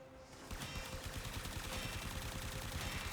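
Supra Vandal firing in the video game Warframe, a rapid continuous stream of automatic shots starting about half a second in, loud and dense with a steady rattling rhythm.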